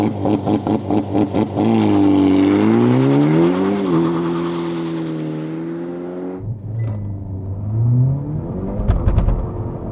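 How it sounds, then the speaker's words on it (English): A 2024 Hyundai i30 Sedan N leaves the line under launch control with a brief chirp of wheel slip, then pulls hard through the gears, its engine climbing in pitch, cutting at a shift and rising again. Loud and close, with no one speaking. "Bit of wheel slip off the line there."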